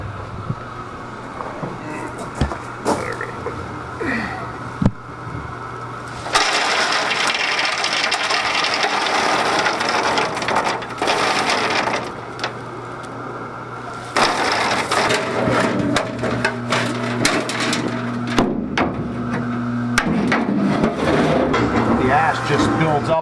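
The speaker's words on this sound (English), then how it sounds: "That's the auger." Pellet stove auger feeding grass pellets into a greenhouse heater, heard as a steady low mechanical hum with intermittent louder grinding, crunching stretches close by, and a person talking over parts of it.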